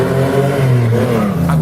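A Chevrolet Opala 250S with the 4.1 six-cylinder, long-duration camshaft, twin carburettor and mechanical lifters, revving high in a steady, loud, sustained engine drone with a slight pitch dip near the end.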